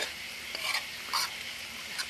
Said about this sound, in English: Those onions need stirred.